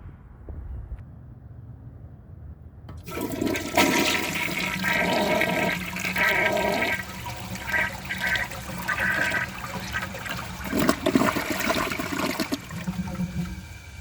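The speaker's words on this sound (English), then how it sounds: "So let's give this a flush and see how it does on tests." A 1985 Kilgore Aladdin toilet, fitted with a standard flapper and a fast-filling fill valve, flushes loudly and steadily after a few seconds of quiet, with a rushing swirl that carries through to the end.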